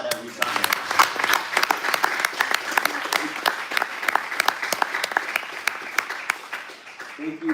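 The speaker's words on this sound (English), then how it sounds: "We need to applaud every time." Sustained applause from an audience, many hands clapping steadily with a dense crackle that holds throughout and thins slightly near the end.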